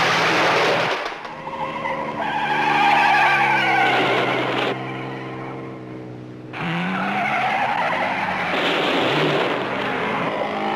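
1960s Grand Prix racing cars skid and roar past, their tires squealing in long loud sweeps and engines droning close by, one car after another, with no talk.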